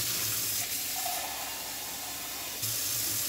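A kitchen tap runs steadily into a measuring cup, a continuous hissing stream of water at moderate level that changes slightly as the flow is adjusted, with no talking.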